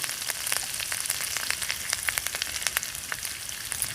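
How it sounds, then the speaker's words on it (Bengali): Grated ginger frying in a pan with ground coriander crackles and pops in quick, uneven bursts over a constant sizzle, close and fairly loud, with no voices. "আদাটাকে হালকা একটু ভেজে নেব এবার আমি এই আদার মধ্যে দিয়ে দেবো কিছু গুঁড়ো মশলা প্রথমে দেবো ধনে গুঁড়ো"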